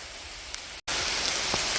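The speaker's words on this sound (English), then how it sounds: "it's raining so fucking hard." Heavy torrential rain pours down steadily during a thunderstorm with flash flooding, a dense close roar of drops hitting surfaces that cuts out for a split second before resuming just as loud.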